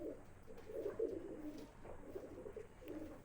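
Madrasi pigeons cooing in repeated low, throaty bursts, soft and fairly close, with brief pauses between phrases and no talking.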